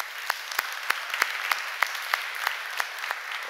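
A church congregation claps in a steady rhythmic beat, with sharp unison claps about three per second over a bed of scattered clapping, fairly close.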